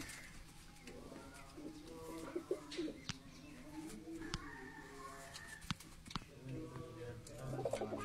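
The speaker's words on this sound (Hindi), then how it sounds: "ये सारे जो कबूतर लाखे और मियां नज़ीर साहब वाले कबूतर हैं" Lakha breed pigeons in a breeding setup coo softly in low, throaty bursts, several birds overlapping, with light fluttering and shuffling nearby.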